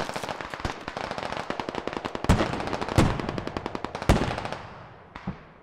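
Rapid automatic gunfire from an EF-88 rifle in the military shooter Squad, a dense run of sharp cracking bursts with a few louder single shots, close and loud, tailing off near the end.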